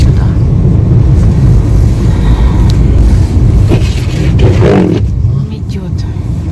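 A car driving off along a snowy road, a loud, steady engine and road rumble heard from inside the vehicle, with people talking over it.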